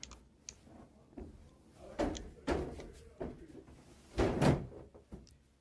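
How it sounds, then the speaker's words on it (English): A door closes in the Yakuza 5 Remastered video game, heard as a series of muffled wooden thuds and knocks, with the heaviest bump near the end over a quiet background. "You just closed the door."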